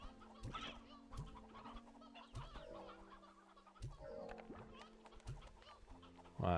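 Chickens clucking in the Slime Rancher 2 video game, a run of short, fairly close clucks and calls repeating steadily, with a louder squawk at the end and no talking.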